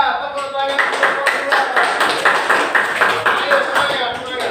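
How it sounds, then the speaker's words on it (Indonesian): A classroom group claps in a fast, regular rhythm for about four seconds, the sharp close claps repeating in even beats, with a voice speaking briefly at the start. "Tepuk tangan untuk kelompok"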